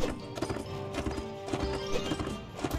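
Horse hooves gallop in Mount & Blade: Warband during a cavalry charge, a rapid, dense clatter of hoofbeats with snorts and battle noise mixed in, loud and close for the whole stretch.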